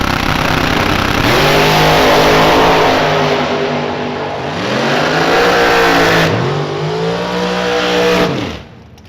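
Door cars launch side by side down the drag strip at Kil-Kare Dragway, engines roaring loud and close, with rising pitch sweeps through gear changes before the sound drops away at the end.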